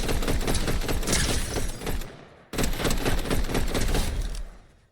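Loud video game weapon gunfire in rapid bursts, dense crackling shots filling two sustained volleys separated by a short gap, each tailing off, with no talking.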